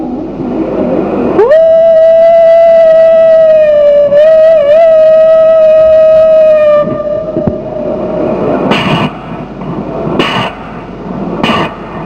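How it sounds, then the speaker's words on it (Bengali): Train running through town and villages: a loud, sustained horn-like tone sounds for several seconds over rumbling rail noise, followed by three short bright clanks as the train keeps rolling close by. "ট্রেন চলছে শহরে, গ্রামে মানুষ থাকছে। ট্রেনের শব্দ শুনুন।"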